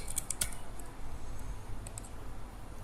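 Quick keystrokes tap on a computer keyboard, a short burst of crisp clicks at the start followed by a few scattered taps over a quiet background hum.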